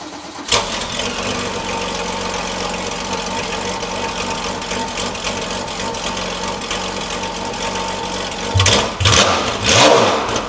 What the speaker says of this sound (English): this is going to be a cold start on this 993 911